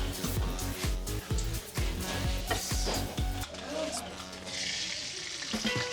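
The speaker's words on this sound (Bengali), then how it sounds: "হ্যাঁ, ডিম ভাজা হচ্ছে" An egg fries in a pan at a cheap street breakfast stall, giving a bright sizzle over busy background clatter, with low thumping knocks early on and faint voices nearby.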